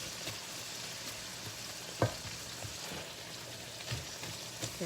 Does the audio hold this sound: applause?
no